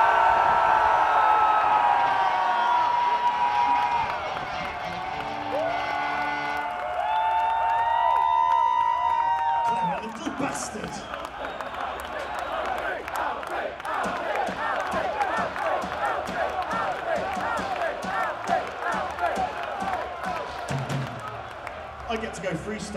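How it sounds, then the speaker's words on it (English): A large festival crowd at an open-air metal show cheers and roars loudly, the massed voices swelling strongly after a shouted build-up; amplified talk and whoops ride over the sustained, dense cheering. "we cheer the loudest cheer of the festival to bring on 12-year-old Alfie Wood"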